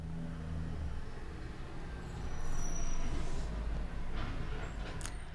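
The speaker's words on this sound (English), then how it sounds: "I hope I was able to finish that take before that truck picked up." A heavy truck passing outside, a low rumbling roar that swells to a peak in the middle and then eases off while staying steady in the distance.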